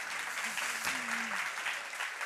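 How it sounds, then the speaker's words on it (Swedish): Sustained applause from a seminar audience at a talk on sustainable food production, dense and steady throughout, with a brief faint tonal sound partway through. "Åh, vi får applåder."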